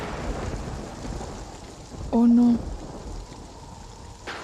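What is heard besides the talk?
rain and thunder starting outside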